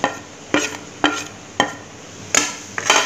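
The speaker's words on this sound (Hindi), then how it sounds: "इसको हम भून लेते हैं हल्का हल्का" Red chili, cumin, coriander and garam masala lightly dry-roasting in a pan, with a spoon scraping and clinking against the metal in sharp strokes about every half second over a soft background hiss.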